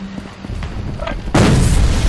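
A grenade blast in the shooter game Battle: Los Angeles, a sudden loud broadband boom that cuts in after a stretch of quieter battle noise and rumbles on to the end.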